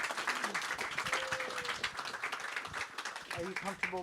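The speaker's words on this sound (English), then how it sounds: "Let's give Chuck a round of applause." An audience at an author's book signing claps in a short round of applause, scattered hand claps mixed with people talking close by.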